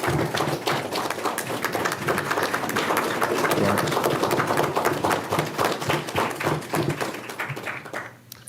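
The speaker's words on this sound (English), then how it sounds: "So please join me in giving them a round of applause right now." Sustained applause from an audience at a city's annual State of the City address, steady dense clapping filling the room at a loud level for several seconds before tapering off near the end.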